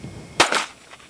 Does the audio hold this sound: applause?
no